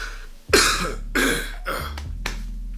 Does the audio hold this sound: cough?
yes